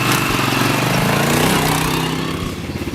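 A ROKON two-wheel-drive motorcycle engine runs loud and close, a steady throbbing putter that eases slightly toward the end, with no voices over it.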